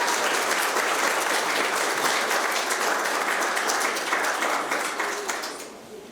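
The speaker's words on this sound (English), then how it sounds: "Let's give her a round of applause." An audience at a college spring speech contest applauds a speaker, a dense, loud burst of clapping that holds steady and then fades out toward the end.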